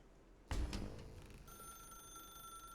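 A telephone rings in The Stanley Parable Ultra Deluxe video game, sounding a steady high electronic tone that follows a heavy thump and clatter and carries on clear and moderately loud to the end.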